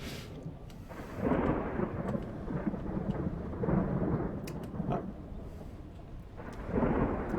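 Thunder rumbles in deep rolling swells over steady rain in a medieval RPG sandbox video game, the peals rising and fading in several waves, fairly soft and distant, without speech.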